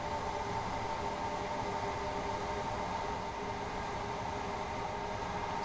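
A train in Train Sim World 2020 on the East Coastway route runs as the driver notches up power, giving a steady, moderately faint rumble and hum of the engine and rails with no other sounds.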